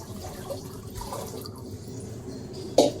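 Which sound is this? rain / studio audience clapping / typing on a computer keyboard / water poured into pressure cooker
water poured into pressure cooker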